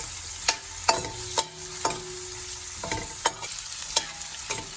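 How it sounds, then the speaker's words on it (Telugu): Green chillies and onions frying in a pan for fenugreek leaf curry, a steady sizzle broken by sharp scraping strokes of a spatula every half second or so, close and with no talking. "ఆనియన్స్ ఫ్రై అవ్వాలి."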